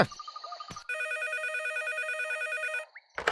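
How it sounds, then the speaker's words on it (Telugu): An animated cartoon telephone ringing with a bright electronic ringtone of rapid repeated warbling tones, clear and close, framed by short clicks and sounds before and after. "ఫోన్ రింగ్ అవుతుంది."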